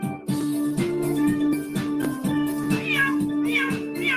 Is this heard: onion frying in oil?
no